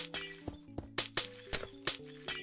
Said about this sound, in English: the glass is so much louder than the rest of the blocks